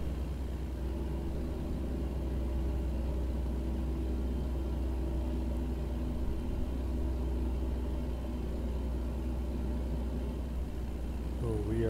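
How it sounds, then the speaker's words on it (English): A heavy truck engine drones steadily while hauling a load up a snowy mountain highway in American Truck Simulator, a constant low rumble with little change, close and even throughout. "This truck has a powerful engine too."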